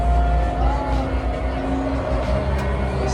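A Porsche being driven at the Porsche Experience Center in Atlanta, a steady loud engine drone close by with a sustained hum that rises slightly in pitch.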